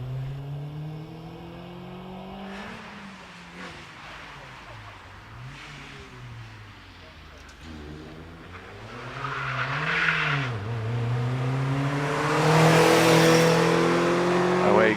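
A Peugeot 205 GTI rally car accelerates on the Prescott hillclimb, its engine revving up and down through gear changes and rising as it pulls away, with a commentator talking over it throughout.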